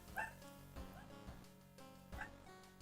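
A couple of household dogs bark and yip indoors in short, separate bursts, with a whimpering tone between them. The sound is faint and sits close to the microphone.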